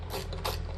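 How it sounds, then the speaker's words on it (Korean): Ratchet handle tightening a T-bolt on aluminium profile: rapid close clicking of the pawl in a continuous run over a low hum, brief and moderately loud. "T볼트를 이용한다고 하면 라쳇 핸들 이용해서 위치를 그냥 따로 너트 잡을 필요 없이"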